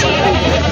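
A goat at a livestock sale gives one loud, close bleat that fills the short moment.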